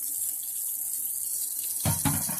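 Contaminated tap water from Flint, Michigan is poured into a clear cup, a brief close splashing rush at the end after a steady hiss of background noise.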